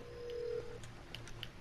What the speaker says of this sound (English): Who's calling their phone, yeah?